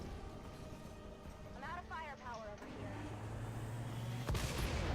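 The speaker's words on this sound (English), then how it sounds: "Cannon shoots, it was 80 damage." A cannon in XCOM 2 fires with a heavy boom near the end, after a stretch of game noise, whooshing effects and a low hum, with someone talking throughout.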